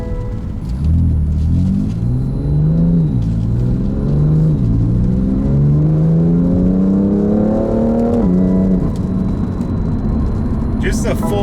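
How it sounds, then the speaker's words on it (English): A car with a double-clutch gearbox accelerates hard at full throttle. The engine note climbs in pitch and then drops sharply at each quick upshift, four or five times in a row. The sound is loud and close, with a brief burst of noise at the end. "Just the full throttle upshifts are so cool."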